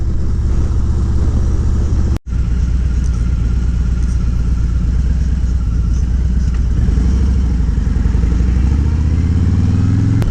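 Motorcycle ride along a road during Daytona Bike Week, a loud, close engine drone with constant rumble and wind, briefly cutting out once before resuming steadily.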